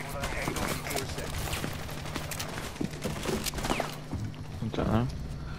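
Gunfire from the tactical shooter game Rainbow Six Siege during a match, with repeated shots and bursts crackling through the clip over constant game ambience and a steady hum.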